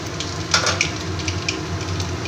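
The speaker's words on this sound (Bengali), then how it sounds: "তারপর কুচের কুচনো লাউটা আমি দিয়ে দিচ্ছি" Chopped bottle gourd dropped into hot oil tempered with dried red chillies and kalonji, producing a steady close sizzle with a few sharp crackles and spatters, no talking.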